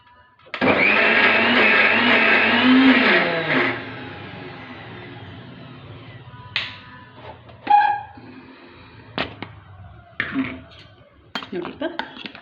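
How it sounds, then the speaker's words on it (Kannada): A kitchen mixer grinder blends roasted chana dal with salt, jaggery and ginger for chutney, a loud steady whir for about three seconds before winding down, then a few short clanks and bumps of the jar and lid. "ಇದನ್ನು ಮಿಕ್ಸಿ ಮಾಡ್ಕೊತೀನಿ ಈಗ"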